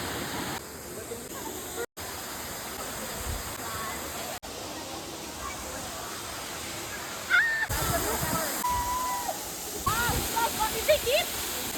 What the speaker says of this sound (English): This is the waterfall we are going to, TakTak Falls.